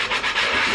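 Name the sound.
scrubbing cast iron cookware with a Scrub Daddy sponge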